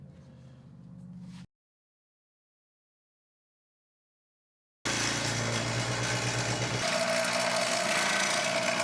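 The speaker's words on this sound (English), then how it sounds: "we're going to use this air impact hammer to knock the part out" A loud, rapid air impact hammer rattle knocking a part out of a truck starts abruptly after a short silence and keeps going steadily; a lower engine-like drone comes before the gap.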